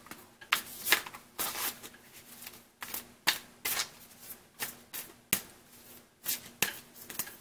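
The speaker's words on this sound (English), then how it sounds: "And the final tarot card pull is" Tarot cards being shuffled up close: a series of soft, papery riffles and taps arriving in irregular bursts, fairly quiet, with no talking over them.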